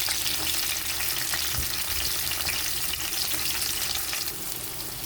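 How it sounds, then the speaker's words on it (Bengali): Prawns fry in a pan with chopped onion, garlic and chilli. The sizzle is loud and unbroken, a dense hiss that holds to the end, with no one speaking. "এগুলোকে খুব সুন্দরভাবে ভেজে নেব"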